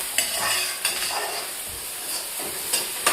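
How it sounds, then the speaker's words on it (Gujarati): Onions sizzle in hot oil while khichdi is being tempered in a home kitchen, a steady frying hiss broken by occasional sharp utensil clinks and stirring scrapes, close and continuous without speech. "ડુંગળીનો વઘાર કર્યો."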